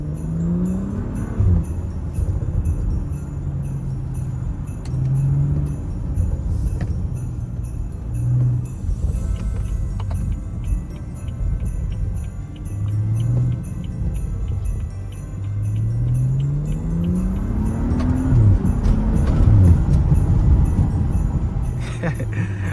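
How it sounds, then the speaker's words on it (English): A BMW F30 drives on snow-caked tires. A steady engine drone swells and eases as the revs rise and fall through the gears, heard continuously from inside the car. "I got my tires all snowed up now. I'm probably gonna drift. Like, not drift, probably gonna slide everywhere. Listen to that."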